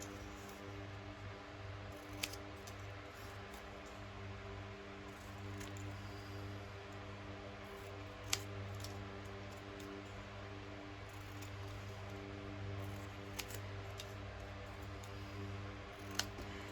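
Scissors trimming a piece of freshly stamped paper for a mini trifold accordion ephemera holder: a few isolated, crisp snips spaced several seconds apart over a quiet background hum, close and faint.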